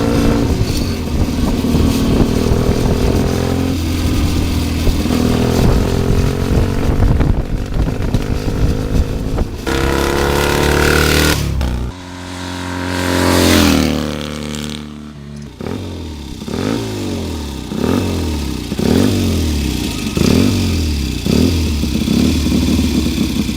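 Triton 500cc classic motorcycle engine running loud and close, a steady throbbing idle with several sharp revs and dips, then repeated rhythmic blips of the throttle near the end.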